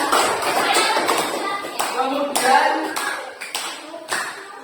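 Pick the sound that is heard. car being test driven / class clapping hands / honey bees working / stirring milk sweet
class clapping hands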